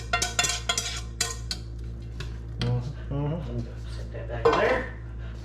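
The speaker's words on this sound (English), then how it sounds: "So we're gonna add our ground beef and the onions that we just made." Ground beef and onions tipped into a pan for creamed beef, with clattering metal pan and utensil scraping, stirring sounds and a brief voice over the clatter.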